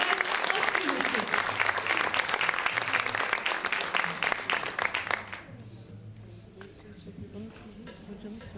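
An audience claps for a singer at a music performance, a dense burst of applause lasting about five seconds before it fades into quieter room noise with a voice talking.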